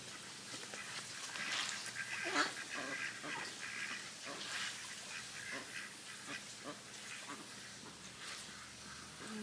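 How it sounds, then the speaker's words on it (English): Ducks playing in water nearby, a string of raspy quacks and honking calls scattered irregularly over a soft watery background, moderately close and fairly quiet, with no speech over them. "The ducks are just having fun playing in the water over there."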